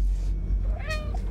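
A cat meows in the video game Stray, one short rising-falling meow heard close and clear over a low background hum.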